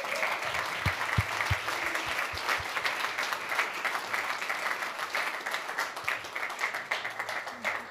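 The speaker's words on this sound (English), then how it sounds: "Give them a round of applause" A church congregation applauds steadily to welcome Kat and Nathan, a dense, even wash of many hands clapping that carries on for the whole stretch, with a few sharper claps standing out near the start.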